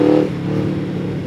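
A Yamaha Vmax 1700 Gen 2 motorcycle engine revs briefly, a deep throaty tone that peaks at the start and then settles into a steady rumble, close and alone.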